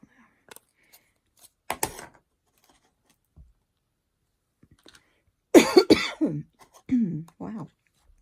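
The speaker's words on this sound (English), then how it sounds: "I'm sorry I'm coughing all over y'all." A few isolated coughs and throat clearing early, then a louder burst of harsh, hacking coughs close to the microphone, with quiet gaps between.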